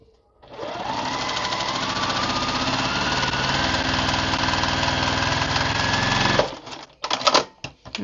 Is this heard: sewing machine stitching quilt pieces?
yes